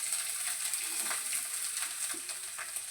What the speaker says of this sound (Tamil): இதையும் இந்த நெய்யில் போட்டு வறுத்துக்கலாம்.